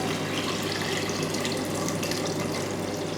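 Water pours steadily into a pot of soaked lentils for Mughlai dal, a dense, continuous rushing stream that stays loud and close throughout with no break.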